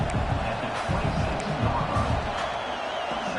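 Stadium crowd at a college football game against Clemson, a steady dense roar of many voices throughout, with a commentator talking over it.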